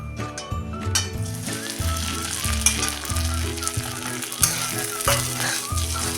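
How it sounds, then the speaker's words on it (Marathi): Sabudana (sago) fries with cloves in a pan for khichdi. A loud, steady sizzle runs throughout, broken by regular scraping and stirring strokes and a few sharper clinks against the pan. "साबुदाणा आपण एक दोन मिनटं चांगला परतून घेऊया"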